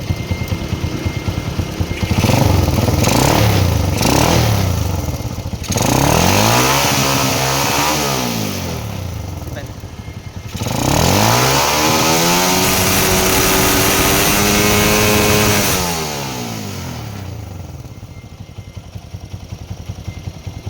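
A Honda Wing motorcycle converted to CDI ignition runs close by, idling and then revving up and down in several long, loud sweeps before it settles back to a lower idle.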